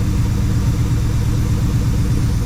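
A 1966 Ford Fairlane with a 390FE V8 and 4-speed, caught running after a start: a steady, loud, close, rumbling engine sound throughout, with no pauses.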